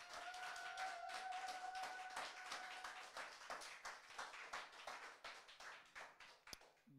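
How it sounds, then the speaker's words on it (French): Audience applause at a live French chanson concert in an apartment, a soft, fairly distant patter of hand claps that holds steady, then thins into scattered claps toward the end. "Vous pouvez applaudir, hein."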